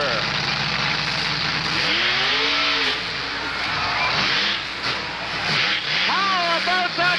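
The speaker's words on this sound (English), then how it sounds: "How about that for Borus, the monster truck? Stood it right on its end." Monster truck Borus, driven by Larry Albert Jr., revving its engine hard as it climbs and stands upright on its end at a show, a loud, close, wavering engine roar with rising and falling pitch swells under crowd noise.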